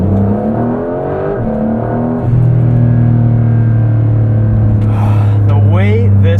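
A 2025 Porsche 911 GTS (992.2) hybrid launches hard from a standstill, its engine note climbing loud and steady with a rising whir as it pulls, ending in a brief rush of sound near the close.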